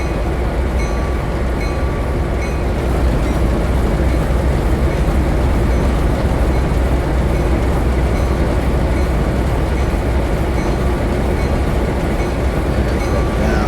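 A locomotive in a train simulator game holds a steady, loud rumbling drone, heavy and continuous, with the faint clack of rolling wheels beneath it.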